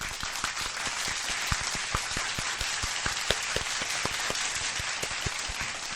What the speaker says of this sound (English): Come on, round of applause.